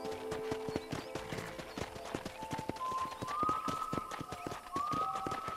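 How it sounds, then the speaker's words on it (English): A horse gallops in the video game Red Dead Redemption, its hooves clip-clopping in a quick, even rhythm close by, with faint tonal game music and effects rising beneath the hoofbeats. "Mount your new horse."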